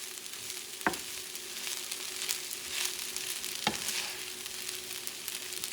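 Rice with scallops and chickpeas sizzles steadily in a pan over heat a notch or two below medium, a constant frying crackle with two brief sharp clicks of a utensil.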